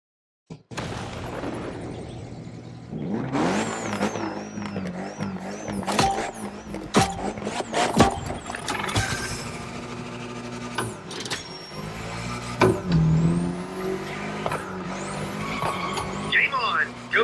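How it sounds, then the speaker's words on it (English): In The Crew Motorfest, a car drifts with long, wavering tire squeals, screeching slides and engine revs coming up again and again. A voice talks over them now and then. "Can you get all steezy with your slide? And how long can you maintain your drift?"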